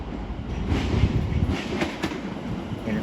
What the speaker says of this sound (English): Soon to arrive in now will be a terminating London Northwestern Railway service from Tring